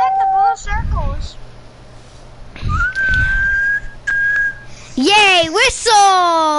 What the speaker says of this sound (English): Yay, whistle! Let it all out.